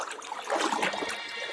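Water trickles and splashes faintly through the narrow walls of Zebra Slot Canyon in a short, soft burst with no voices.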